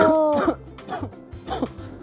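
A couple of short coughs or throat-clearing bursts, close to the mic, spaced about a second apart over a steady background tone.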